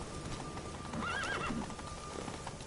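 Roach, the horse from The Witcher 3, gives a wavering neigh in the middle of the clip while hooves keep up a steady clopping beneath it, fairly faint and with no voices.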